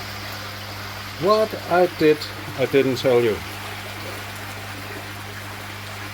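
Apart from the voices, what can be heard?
pump filling a fish pond with water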